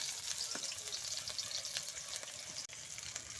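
Chopped onion frying in oil with ginger for khichdi, a dense continuous crackling sizzle with faint stirring taps, steady and close, no voices.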